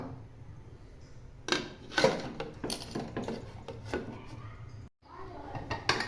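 Pressure cooker being readied with rice on a home stove: close clatter of metal pot and lid, knocks and scrapes in short irregular bursts, with a brief silence near the end.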